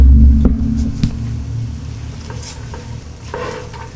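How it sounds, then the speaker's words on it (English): Fried rice sizzles in a pan with a close, steady hiss, broken by a few sharp scraping and stirring clacks from a utensil against the pan. "Okay, now it's sizzling."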